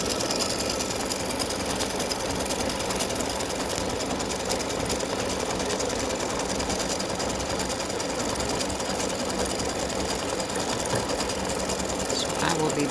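An embroidery machine stitches out a freestanding lace Valentine gift tag, a continuous rapid mechanical chatter of needle strikes, close and steady throughout.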